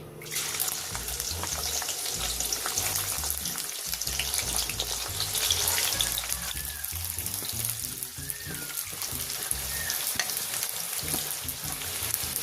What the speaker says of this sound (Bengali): তেল গরম হয়ে গেছে কেটে রাখা পেঁয়াজগুলো দিয়ে দিচ্ছি